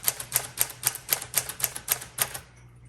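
Keys strike on a 1946 Sterling Speedline manual typewriter in a quick, even run of about a dozen crisp clacks, close up, before trailing off.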